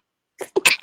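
A single person sneezes close by, a short inhaled catch followed by two sharp bursts, the last the loudest, after a moment of silence.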